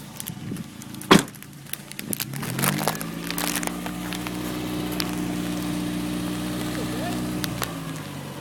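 A car engine idles steadily with a blow-off valve fitted, a low even hum running for several seconds after a sharp knock and some clatter near the start.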